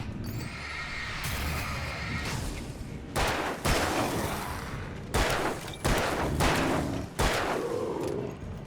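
Gunfire in the video game Alan Wake: several sharp broadband shots spaced a second or two apart over a steady, rumbling game ambience, fairly close and loud.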